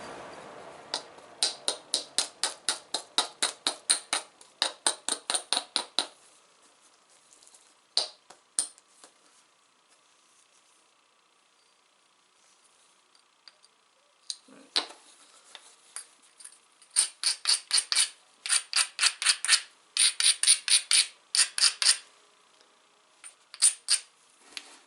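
Flint is struck and tapped while knapping off a thick spot, producing clusters of rapid, crisp stone-on-stone clicks and chinks in rhythmic runs, separated by quiet pauses and a few isolated taps, close and clear with no talk.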